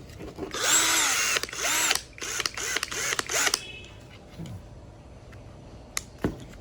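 A Tio Moon cordless impact drill runs in hammer mode for about three seconds, whirring loudly up close in several short bursts with a rapid pulsing hammer rattle, then stops, leaving faint background noise.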